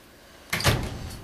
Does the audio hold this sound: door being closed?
yes